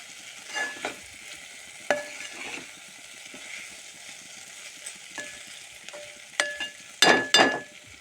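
Stirring okra peanut curry in a pan: faint sizzling under a few scraping strokes and sharp metal clinks of a spoon on the pan, close and intermittent, no talk.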